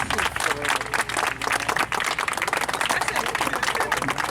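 Dense, sustained clapping from an audience at a gathering in Léogâne, Haiti, a busy crackle of many hands at fairly close range that keeps a steady level throughout.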